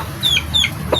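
A small chicken kept in a backyard flock gives a few short, bright clucks close by, spaced irregularly against a quiet outdoor background.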